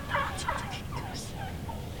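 Wild turkeys gobble in a Nebraska field, several rattling, throaty calls overlapping at moderate distance against a steady outdoor background, with no speech.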